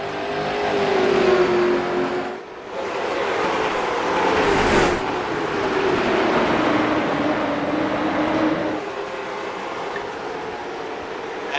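Race car engines at Daytona roar continuously, a dense loud rumble of a pack passing with rising and falling pitch as cars accelerate by, no voices over it.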